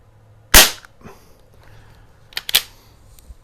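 A Beeman AR2078 CO2 target rifle firing offhand, one sharp crack followed about two seconds later by a second crack with a short mechanical clatter.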